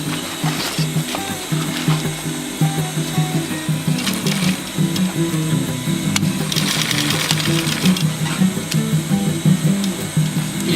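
A sewing machine runs a triple stitch through fabric on a rollup bag, a close, steady mechanical whir with a rapid needle rhythm and short pauses and restarts, with no talk.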